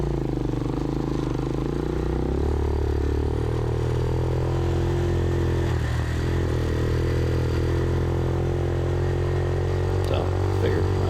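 A Hawk 250 motorcycle running while being ridden, a loud steady engine drone with continuous low rumble and wind, rising in pitch slightly early on and holding near and constant throughout.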